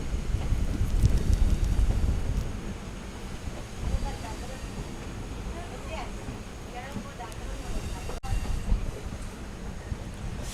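The Trivandrum to Tiruchy Intercity Superfast Express runs on track near Nagercoil Junction with a low, continuous rumble and wind buffeting, plus occasional soft rattles and clanks. Muffled voices sit faintly in the background.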